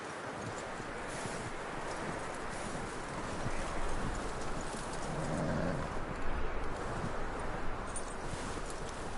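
Horse hooves clip-clop steadily in a PS4 video game, a continuous rhythmic trot over a dense bed of ambient noise, with no speech.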